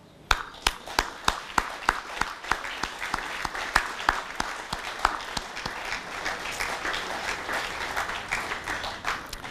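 Audience applause at a 150th anniversary celebration of the Bahnhofstrasse in Buchs, beginning with a few distinct claps and swelling into steady, fairly close clapping from a crowd that continues throughout.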